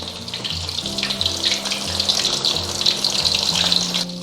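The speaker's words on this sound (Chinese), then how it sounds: "火力的话，保持中小火炸，就下的时候尽量就是快一点，因为这个鱿鱼很容易熟的" Batter-coated squid rings dropped into oil for deep-frying over medium-low heat, a continuous bubbling sizzle that swells as pieces go in, with faint background tones.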